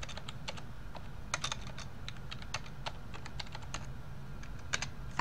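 A card number is keyed in on a computer keyboard, with quick irregular clicks of individual keystrokes, close and clear, with no talking.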